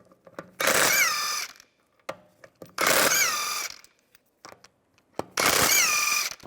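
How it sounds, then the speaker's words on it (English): Lug bolts on a 2004-2010 BMW X3 rear wheel being loosened with a 17mm socket, three long bursts of loud, fast whirring, likely from a power tool, separated by brief clicks and pauses, close with no talk. "Use a 17mm socket to take the lug bolts out"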